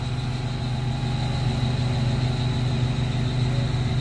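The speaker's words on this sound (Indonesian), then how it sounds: "Dia mesinnya udah hidup." A Tadano GR 800EX crane engine idling steadily, a loud, low rumbling drone with a constant even pulse and no change in pitch throughout.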